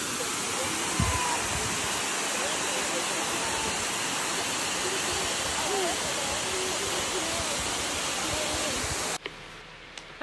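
Steady, loud roar of falling water fills the scene, broadband and constant, cutting off abruptly near the end.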